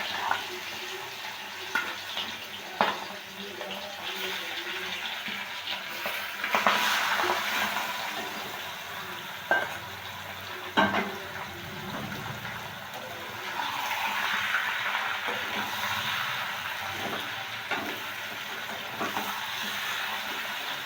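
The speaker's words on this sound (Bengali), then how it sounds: "আমি চিকেনটাকে হালকা করে একটু ভেজে নেব" Marinated chicken frying in a pan for chicken masala, a steady broadband sizzle crackling throughout, with occasional stirring clatters and louder bursts of spitting oil.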